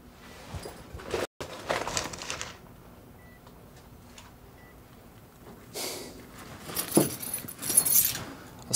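Keys jangle in a purse in an indoor scene, giving brief metallic clinks and rattles in a few short bursts between quieter stretches, with no voice.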